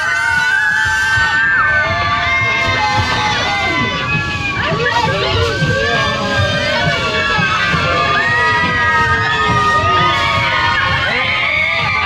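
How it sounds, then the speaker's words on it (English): Passengers on a ghost train scream together in a dark tunnel, a loud, sustained chorus of shrieks and shouts from a crowd of children and adults with overlapping voices throughout. "I want you all to scream so loud and keep screaming all the way through"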